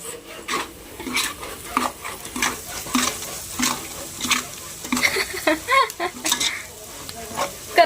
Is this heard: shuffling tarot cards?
no